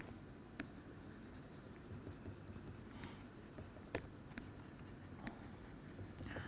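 Faint scratching and light taps of writing on a board during a mathematics lecture, steady and quiet with a few sharper clicks and no talking.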